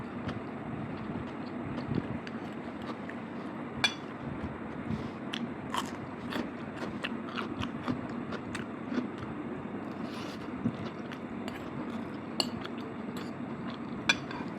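Cutlery clinking and scraping against a plate while someone eats egg chow mein noodles alone, scattered sharp metallic taps and scrapes over soft chewing, close and fairly quiet.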